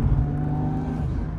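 VW Golf 4 R32 turbo engine revving close by, a loud steady droning note with low rumble that holds and then eases slightly, wastegate noise blended in.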